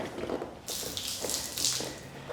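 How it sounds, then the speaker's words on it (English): Water gushes and splashes out of the engine of a sunken Sea-Doo jet ski in a steady broadband rush, loud and close, surging a few times. "See how much water is going to be in here."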